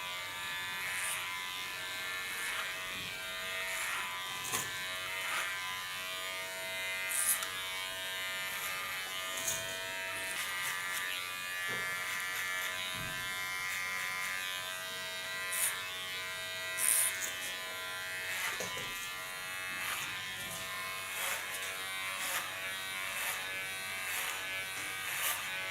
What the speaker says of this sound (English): working with a clipper and a comb, you can always guide the hairs into the clipper